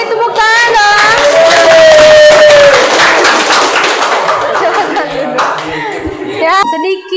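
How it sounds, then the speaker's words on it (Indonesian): A classroom group claps hands during a teaching session, loud irregular clapping with voices and cheering over it, including a sustained shout, tapering before a sudden burst of sound at the close. "Beri tepuk tangan dong"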